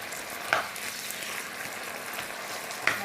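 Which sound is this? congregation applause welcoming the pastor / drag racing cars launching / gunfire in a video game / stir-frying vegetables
stir-frying vegetables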